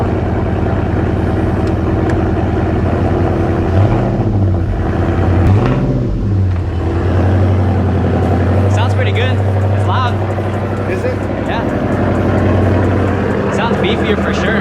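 A Ford SVT Cobra engine fitted with new shorty headers idles loudly and deeply, a steady close rumble with a couple of brief revs, while people talk over it.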